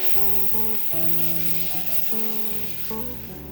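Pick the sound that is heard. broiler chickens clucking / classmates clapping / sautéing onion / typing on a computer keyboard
sautéing onion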